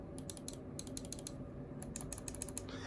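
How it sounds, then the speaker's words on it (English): Front buttons of a Corsair Ironclaw RGB wireless gaming mouse clicked over and over in quick, sharp bursts, crisp close-up clicks coming in clusters with short pauses between them, with no talking. "But these two over here have a bit of a clicky sound."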